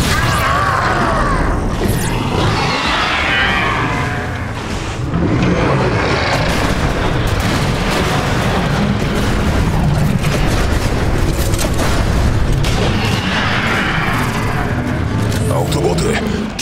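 Regeneration charges exploding amid battle in Transformers: War for Cybertron, loud booming blasts and mechanical crashes layered throughout, with voices talking over the dense, continuous combat noise.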